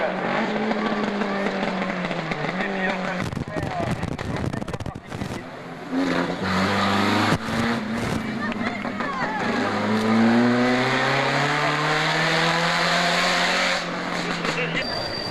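A yellow 1977 rally car at the 1991 Rallye Montastruc, its engine revving and shifting up and down through the gears as it drives past, with a commentator talking over the motor.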